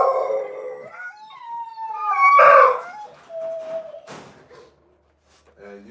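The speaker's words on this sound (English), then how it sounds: "And a dog gonna make noise like that when it's feeding time." Dogs at feeding time let out long, rising howls and yelps, several overlapping, loud and close, building to a peak before trailing off into scattered barks and quieter cries.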